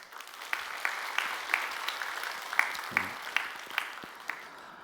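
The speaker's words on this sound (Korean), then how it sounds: "여러분 박수 한번 해주셔요" A church congregation applauds a visiting pastor and her elder husband at a Sunday service, light scattered clapping at moderate distance with sharper individual claps standing out, continuing steadily throughout.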